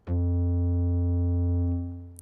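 One sustained, buzzy unfiltered synth bass note with a bright harmonic edge, holding steady for about two seconds before fading out.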